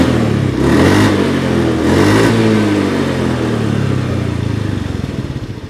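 A Honda Scoopy scooter engine revs twice, then settles into a wavering whine that sweeps downward and fades as the engine slows, close and loud with no speech.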